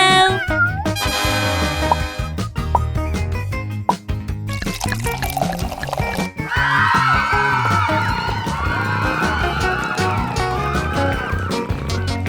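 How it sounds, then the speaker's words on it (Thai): A cat meows several times amid busy, playful music and sound effects in a children's animal comedy, the meows rising in pitch and standing out against the bouncy backing. "เจ้าแมวมาเล่นกัน"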